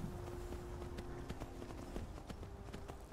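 A large horse in Skyrim VR clip-clops along at a walking pace, hoofbeats sounding as sharp, evenly spaced knocks against a soft background rumble.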